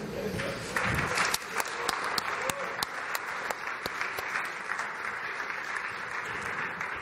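Audience applause at a visual effects student award presentation, a dense, even wash of clapping held across the whole stretch with some distinct louder claps near the start.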